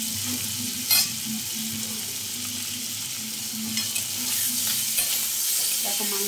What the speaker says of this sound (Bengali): দেখো মাংসটা আমার হালকা ভাজা ভাজা হয়ে এসছে।